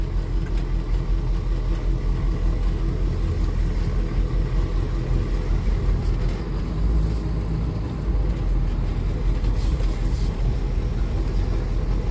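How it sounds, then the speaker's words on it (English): An M1009 Chevy Blazer with PIAA off-road driving lights drives down a dirt road, its engine a steady, loud low rumble with road noise filling the cab the whole time. No one speaks. "Let's take it for a little drive on a dirt road."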